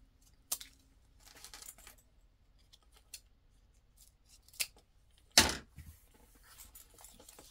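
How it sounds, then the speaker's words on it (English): Scissors trim zipper tape while a bag is being sewn, giving a few faint, scattered snips and clicks with a louder snap near the end, heard close in an otherwise quiet room. "Now I need to trim the zipper tape."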